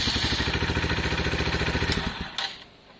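A Lexmoto Valiant motorcycle engine with wiring faults idles with a rapid, steady chugging thrum for about two seconds. It then cuts out and fades, and a couple of faint clicks follow.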